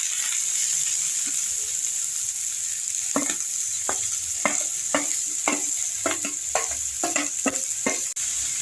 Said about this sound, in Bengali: আলু বিটটা মটরশুঁটির সঙ্গে ভাজা ভাজা হলো